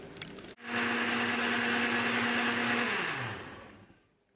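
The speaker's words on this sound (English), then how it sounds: "I'll go on grinding this for a few minutes until it becomes a really smooth batter" An electric blender grinding batter for Kerala kalathappam, starting abruptly after a brief quiet and running as a loud, steady whirring roar, its pitch dropping near the end before it winds down and stops.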